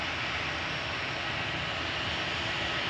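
Continuous broadband roar of an EasyJet Airbus A320 Classic's jet engines at Manchester Airport, loud and steady without break, no voices over it.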